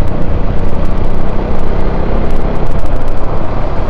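A KTM Duke 390 motorcycle with an RD Powertronic module engine, held under steady throttle, gives off a loud, continuous close-up roar with dense broadband noise and slight pulsing throughout, and no one talks.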